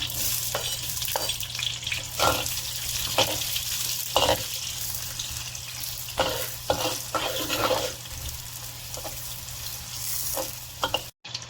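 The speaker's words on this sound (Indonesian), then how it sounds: "Sekarang saya akan tumis bawang merahnya dulu ya." Shallots fry in oil with a steady sizzle and intermittent scraping and stirring strokes of a utensil in a pan, continuous and close, no voices.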